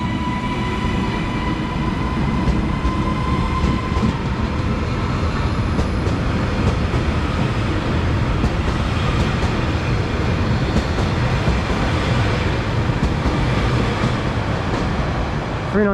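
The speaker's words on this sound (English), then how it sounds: "now departing is the 12:30 Transpennine Express service to Manchester Airport from Edinburgh" A TransPennine Express train to Manchester Airport pulls out of Lancaster station, making a loud, continuous close-up roar of wheels and traction with steady rumble throughout and no pauses.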